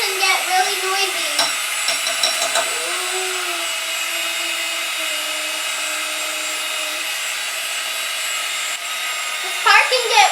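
A loud electric mixer whirs steadily through cupcake batter in a kitchen, with brief clattering against the bowl at the start and end.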